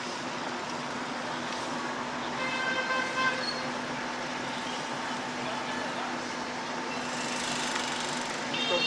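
Motorbikes and bicycles roll past in a small Chinese city street, a constant low traffic hum with a few faint horn toots in the distance.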